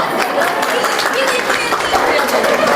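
A crowd at a local contest for women gives loud, sustained applause, with dense clapping blended with cheering and chatter throughout.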